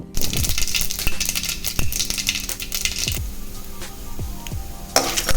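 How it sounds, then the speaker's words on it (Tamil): Mustard seeds sizzle and crackle in hot coconut oil in a kadai, a steady frying hiss broken by sharp pops and metallic clinks of the pan, close and loud with no talking. "அந்த தேங்காய் எண்ணெய் ஊற்றிக்கலாம் கடுகு போட்டுக்கலாம்"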